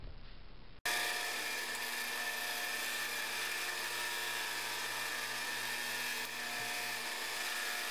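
Metal being cut on a machine for a center height tool: a steady, high-pitched cutting whine with sustained tonal ringing starts abruptly after a brief lower noise and runs loud and unbroken to the end.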